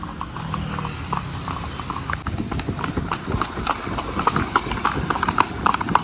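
Hooves of two horses clip-clop steadily on a hard surface as they walk, a continuous close rhythm of hoof strikes with faint background noise.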